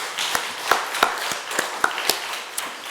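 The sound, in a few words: congregation applauding in church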